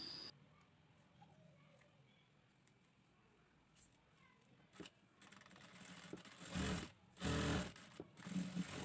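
A sewing machine stitches tucks on the back part of a blouse, running in a steady mechanical hum from low level, with louder bursts of whirring and clatter toward the end.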